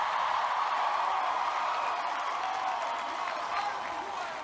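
Crowd applause and cheering at a political speech, a steady broad wash of clapping that holds at a loud, even level throughout with no talk over it.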